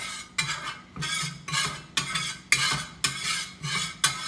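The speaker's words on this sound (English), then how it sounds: "Then we're gonna be mixing in our onions as well as garlic." Onions and garlic being mixed in a hot oiled pan, a regular rhythm of about eight scraping strokes each about half a second apart with spoon clinks against the metal and a faint sizzle beneath, close and alone.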